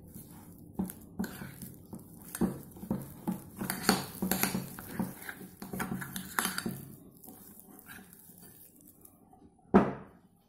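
A potato mixture with dried fenugreek leaves and chili flakes being mixed in a bowl: a spoon scraping and clinking against the dish in irregular strokes, ending with one sharper knock.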